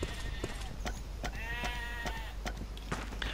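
Sheep bleat in the PC game Dino D-Day, a few wavering cries with clicking footsteps and game noise around them, while players talk over the top.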